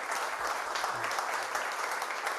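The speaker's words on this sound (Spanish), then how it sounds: "Ahí aprovecho de pedirle un aplauso porque Carlos estuvo detrás de la organización de este evento también" An event audience applauds the organiser at a marketing talk, dense steady clapping filling the room without letup, a few faint voices underneath.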